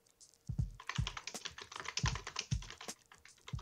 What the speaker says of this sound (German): Da tippt einer auf jeden Fall schon mal.